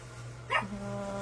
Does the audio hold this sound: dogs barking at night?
yes